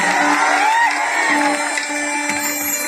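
A large crowd at a stage show cheers and whoops loudly with a steady roar throughout. A sustained musical tone and shouting voices sit over the noise.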